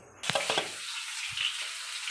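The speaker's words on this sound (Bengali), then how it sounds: "কালো জিরে ফোড়ন দিয়ে পেঁয়াজ লঙ্কাটা দিয়ে দিয়েছি" Onion, chili and black cumin hit hot oil with a sudden burst of sizzling and a few spattering crackles, which settle into a softer steady fry. Close and fairly quiet, with no voices.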